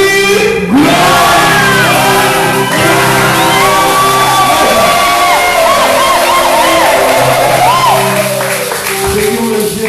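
A congregation at a blessing service in a church in Lyon, France, loud and close with overlapping shouts, whoops and cries of glory, a dense crowd sound over a continuous bed of sustained organ or keyboard chords.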